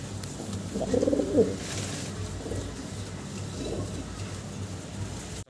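Pigeons coo softly in a farm loft where fancy breeds such as Danish pigeons are kept, a few low throaty calls near the start and again later over steady background hum.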